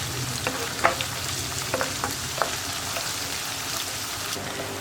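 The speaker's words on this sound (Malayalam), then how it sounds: "ഞാനിപ്പോൾ ചതച്ച് വെച്ചിരിക്കുന്ന ഇഞ്ചിയും വെളുത്തുള്ളിയും ഇതിലേക്ക് ചേർക്കുകയാണ്" Crushed ginger and garlic frying with coconut pieces in a pan, a continuous hiss and crackle with small stirring clicks and taps scattered through, no talk.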